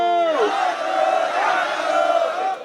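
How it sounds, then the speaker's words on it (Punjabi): A protest crowd chants a religious slogan in unison, starting with one raised voice and swelling into a loud, sustained group shout that fades near the end. "ਆਪਾਂ ਇੰਨੀ ਉੱਚੀ ਆਵਾਜ਼ 'ਚ ਆਪਾਂ ਜੈਕਾਰੇ ਛੱਡੀਏ ਕਿ ਉੱਥੋਂ ਤੱਕ ਸਾਡੀ ਆਵਾਜ਼ ਵੈਸੇ ਹੀ ਚਲੇ ਜਾਵੇ"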